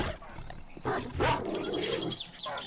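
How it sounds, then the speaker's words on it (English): Dire wolves in 7 Days to Die give a few rough growls and short barks, moderately loud and close, over a busy game background. "Oh, it's a dire wolf and its pack."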